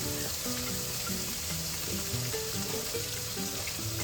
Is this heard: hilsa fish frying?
yes